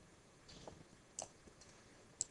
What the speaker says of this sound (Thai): ดับคลิกเข้าไป